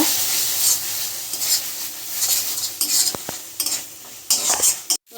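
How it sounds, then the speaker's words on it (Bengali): Masala with tomato and coriander leaves is stir-fried in a pan, giving a steady close sizzle broken by repeated scraping and clinking of a spatula against metal. "তাতে টমেটোটা গলে রাখা ধনে পাতা দিয়ে সব কিছুকে ভালো করে কষে নেব"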